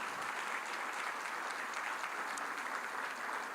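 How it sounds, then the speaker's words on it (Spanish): Church congregation applauding during a worship service, a broad, even roar of many hands clapping together, heard from a distance, steady and unbroken throughout. "Dale un fuerte aplauso al Señor Jesús"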